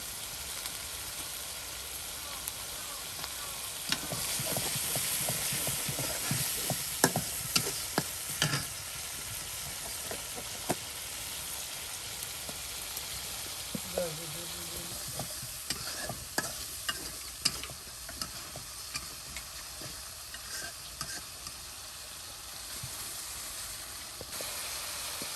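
Ground spice paste, for a tilapia fish curry, fries in a pan with a steady hissing sizzle, punctuated by repeated clinks and scrapes of stirring that come in uneven bursts, close up and without talk.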